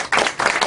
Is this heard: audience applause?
yes